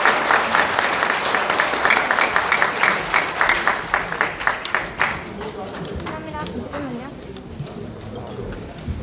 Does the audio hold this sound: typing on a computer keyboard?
no